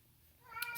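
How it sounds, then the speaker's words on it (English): A pet cat meows once near the end, a short harmonic cry rising out of a quiet room and growing louder over its final half second. "sorry about my cat again."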